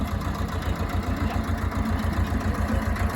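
An old-model tractor engine runs steadily at idle in a rural farming setting, a close, continuous low rumbling chug with an even pulsing rhythm throughout and no talk.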